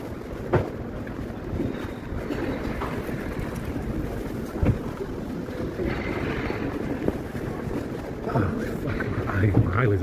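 Cold, blustery wind outdoors buffets the microphone with a steady low roar and occasional gusts, loud throughout the stretch with faint voices mixed in.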